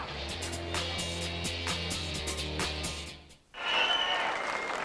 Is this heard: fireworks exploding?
no